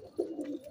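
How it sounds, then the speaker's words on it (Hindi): Pet pigeons give a short, soft cooing call, a low burbling coo lasting under a second with no voices present. "ये हमारे कबूतर है"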